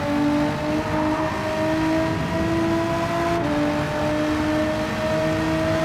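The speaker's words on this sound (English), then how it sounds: "Listen to those downshifts of the Renault." A Renault race car at the 100 km of Monza runs at high revs, its engine whine dropping in steps through several downshifts, loud and steady with no talking.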